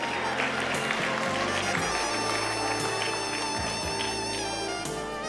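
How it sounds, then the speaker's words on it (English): Audience applause at a primary school annual awards ceremony, a steady, dense wash of clapping from a large crowd that fills the whole stretch, with a tonal background sound running underneath. "Round of applause again for Kimai."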